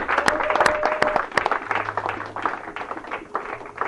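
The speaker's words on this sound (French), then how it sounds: "Je veux que tu acclames la parole du Seigneur." A church congregation applauding during a French-language worship service, irregular clapping with sharp individual claps standing out near the start, then a looser, thinner patter of hands continuing to the end.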